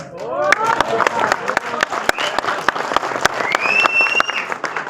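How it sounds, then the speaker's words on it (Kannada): A cinema audience claps for the climax of a Kannada film, with dense, steady applause throughout and crowd noise mixed in. "ಈ ಚಿತ್ರದ ಕ್ಲೈಮ್ಯಾಕ್ಸ್ ಇಷ್ಟ ಆಯಿತು ಅಂತ ಚಪ್ಪಾಳೆ ತಟ್ಟಿದ್ದಾರೆ"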